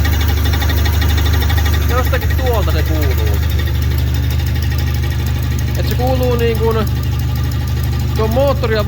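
A Fiat FIRE 1.2 8V car engine idles steadily with a continuous light metallic clinking between engine and gearbox running through it, while a person talks over the hum.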